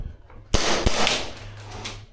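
A Tokyo Marui Chisato airsoft pistol with a slide not fully returning to battery fires two sharp, close cracks about a third of a second apart, then a brief fading rattle.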